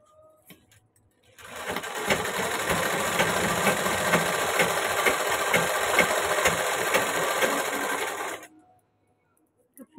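A sewing machine runs in one steady burst of about seven seconds while stitching a ghagra skirt, a close, even mechanical whir set between short quiet stretches at either end.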